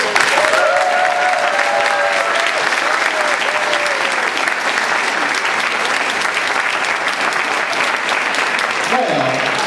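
Sustained applause from a large audience at a Toastmasters district conference business briefing fills the space loudly and evenly, with faint voices and a brief tonal sound over the clapping.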